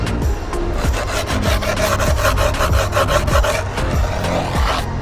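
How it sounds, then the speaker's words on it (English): Rhythmic back-and-forth rasping of a small tool being sanded with skateboard grip tape, quick repeated strokes close by, with no talking. "we're sanding down this little tool"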